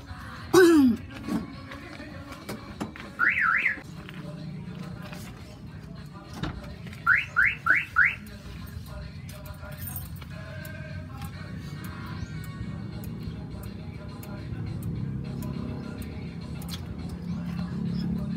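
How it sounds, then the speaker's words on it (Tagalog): A car alarm fitted with a remote central door lock on a Toyota Lucida gives short rapid chirp bursts, one cluster near the start and another a few seconds later, then quiet background with faint talk. "So ngayon po, tapos na po yung car alarm."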